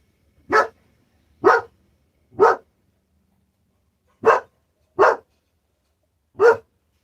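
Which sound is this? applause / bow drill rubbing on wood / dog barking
dog barking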